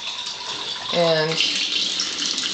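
Water from two water ionizers runs at a fast flow, making a steady broad rush and splash that continues throughout. A short voiced sound from a person cuts briefly into the middle.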